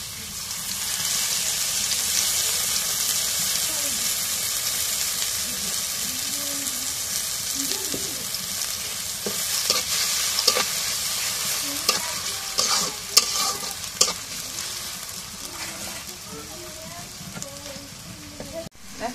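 Oil sizzles and hisses steadily in a hot wok, a dense bright frying noise running throughout, joined later by scraping stirs and clinks of a utensil against the pan, with occasional voices in the background.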